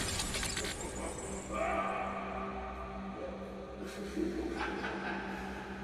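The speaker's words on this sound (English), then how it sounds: "You broke like one glass case thing" Glass case shattering in a movie trailer, a sharp crashing burst early on followed by scattered breaking debris over a dense, loud soundtrack bed.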